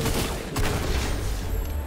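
Rapid gunfire in a video game, a dense fusillade of shots roaring continuously and loud close to the listener, with no talk over it.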